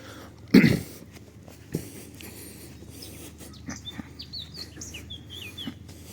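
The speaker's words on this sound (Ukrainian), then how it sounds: "Пташки гарно співають." Faint bird chirps and short twittering calls in the distance in Truskavets, Ukraine, scattered over a quiet outdoor background after a sharp close thump.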